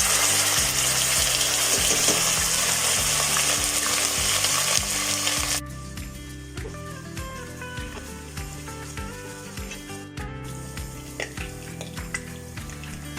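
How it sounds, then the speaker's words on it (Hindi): Ginger garlic paste hits the pan with loud, bright sizzling for the first few seconds, then settles into a quieter crackle with occasional scraping and stirring in the pan. "अब इसमें मैं ये 2 टेबलस्पून भर के जिंजर गार्लिक पेस्ट ऐड कर रही हूँ।"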